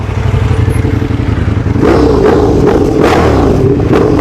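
A motorcycle engine revs hard and loud close by at a paresan eatery in Tagaytay, rising into repeated throttle blips after a steadier low idle, with rattling clatter mixed in.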